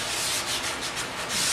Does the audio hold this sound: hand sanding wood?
yes